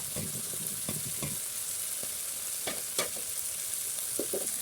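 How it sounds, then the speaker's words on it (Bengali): Tomato stirred into fried potatoes in a pan, a soft even sizzle under periodic scraping strokes of a spatula, fairly quiet and close with no speech. "এখন আমরা আলু ভাজির ভিতরে দিচ্ছি টমেটো এখন আমরা ভালো করে এটাকে কষিয়ে নিব"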